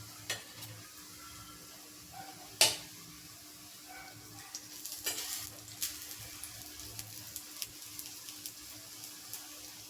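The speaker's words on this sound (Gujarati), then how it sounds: "પરોઠો છે તે બંને બાજુથી શેકાઈ ગયો છે" A masala lachha paratha sizzles softly on a pan, with a sharp clack and a few light ticks and scrapes over the quiet frying.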